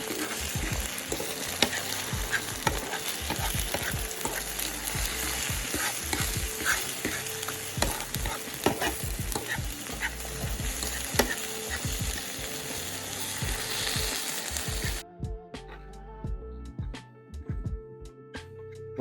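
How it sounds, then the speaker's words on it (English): Eggs fry with a steady sizzle while a utensil repeatedly scrapes and stirs them in a pan, close and clear; the sizzle drops away near the end, leaving only scattered stirring taps. "Now eggs will cook very fast, so you got to watch them very quickly"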